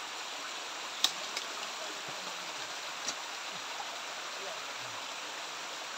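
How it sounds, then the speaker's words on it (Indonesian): Two waterfalls along a jungle stream, a steady faint rushing of water throughout with a few soft knocks and clicks nearby. "Ada dua air terjun di sini."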